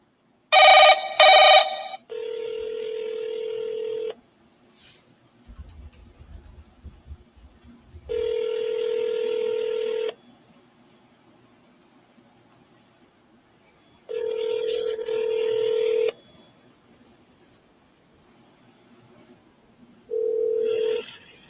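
A phone call to a seller: a short burst of dialing tones, then four long ringback tones spaced several seconds apart, with faint line noise and brief clicks in the gaps and no talk.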